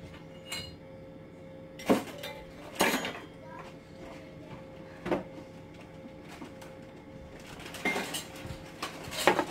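Someone rummages through dishes looking for a mason jar lid, producing several separate clinks and clatters of crockery and utensils spread across a quiet kitchen background.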